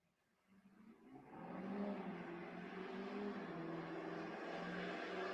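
A dually pickup truck drag racing down the strip at a raceway, its engine rising from quiet into a steady, sustained roar that holds loud to the end.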